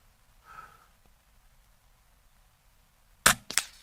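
Two quick sharp cracks from an Air Arms S510XS Stealth Carbine .177 air rifle while plinking in a backyard, close and loud, fired about a quarter second apart after a quiet stretch with a faint earlier sound.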